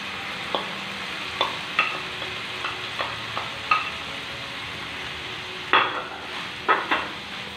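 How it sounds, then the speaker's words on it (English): Boiled rice is stirred into tomato gravy in a pan for tomato rice: a spoon makes a series of soft, spaced scraping strokes over a faint simmering hiss, with no talking. "Slowly mix it well."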